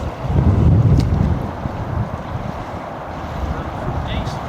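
Wind buffets the microphone outdoors at Bray Lake with low rumbling gusts, strongest at the start, then easing into a steady breezy hiss.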